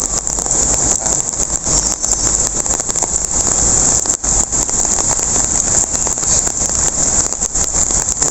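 Rain pours down in Yau Ma Tei, Hong Kong, near a temple, a loud, steady hiss of drops on surfaces that continues unbroken.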